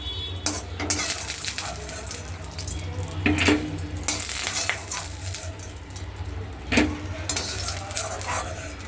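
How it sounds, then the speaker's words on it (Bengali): Lentil dumplings (bori) frying in oil in a pan, a soft continuous sizzle close by, broken by a few clinks and scrapes of a spatula against the pan. "বড়িগুলো আমার ভাজা হয়ে গেছে।"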